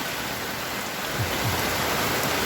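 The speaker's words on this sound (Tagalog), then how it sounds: "Ang lakas po ng ulan." Heavy rain pours steadily as a dense, even roar with no voices.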